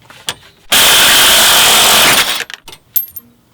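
A loud, close power tool cuts through steel car door hinges on a Jeep at a salvage yard, one harsh grinding burst of about two seconds, followed by clanks and metallic clatter.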